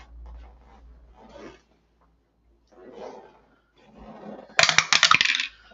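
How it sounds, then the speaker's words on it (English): Dice for an APBA tabletop baseball game drop onto the playing surface in a sharp, rattling clatter of several quick hits, after stretches of quiet talk. "And we drop the dice."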